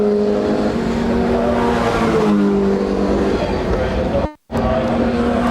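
Formula Ford 1600 race cars at a historic racing festival drone past with a loud, steady engine note that shifts pitch as they go by, briefly dropping out before returning.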